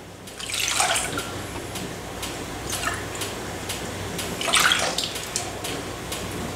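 Milk being poured for a wet batter for deep-fried chicken nuggets, heard as two short liquid pouring bursts, one near the start and one later, over a low steady kitchen background.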